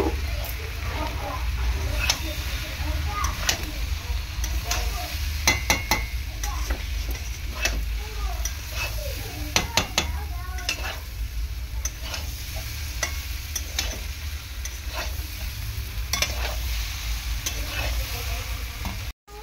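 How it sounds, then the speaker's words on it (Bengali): Fried soya chunks are stirred in a frying pan with salt, a constant close sizzle broken by repeated scraping and clinking of the spatula, with a voice talking now and then. "এরপর ভেজে রাখা সয়াবিনটা দিয়ে দেবো।"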